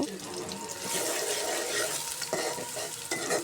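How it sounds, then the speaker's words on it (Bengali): Ground chili, turmeric, coriander and cumin powders are stirred and fried with a splash of water in a pan, producing a continuous close sizzle with scraping stir strokes, fairly quiet throughout. "গুঁড়া মশলা মরিচ হলুদ ধনে জিরে গুঁড়া সামান্য একটু পানি দিয়ে মশলাটা কষিয়ে নেব"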